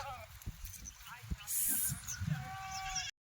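Kathiawari goats bleat in short bursts against a busy background at a goat sale, with people talking throughout and scattered shuffling noises nearby.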